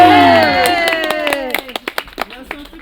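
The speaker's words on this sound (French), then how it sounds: "Messieurs, dames, on applaudit très fort, Rémi." Audience clapping for a mentalist magic act, starting under fading sung music and thinning into scattered individual claps near the end.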